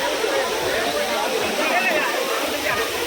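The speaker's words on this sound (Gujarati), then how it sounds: "અત્યારે અમે આવી ગયા છે વોટરફોલ અહીંયા ધર્મશાલામાં છે જે બહુ મસ્ત છે" A waterfall in Dharamshala, busy with tourists bathing in icy water, pours in a steady, loud broadband rush, with voices talking over it throughout.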